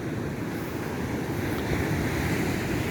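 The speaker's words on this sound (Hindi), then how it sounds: "मैं भी समुद्र के किनारे चल रहा हूँ" Sea waves wash onto Polem beach in Goa, a steady broadband roar of surf with wind rushing over the microphone throughout, nobody speaking.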